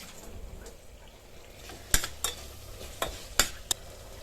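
About a quarter kilo of washed chicken with turmeric being sautéed in a pan, a low background hiss broken by several sharp clinks and scrapes of a utensil stirring, close and fairly clear.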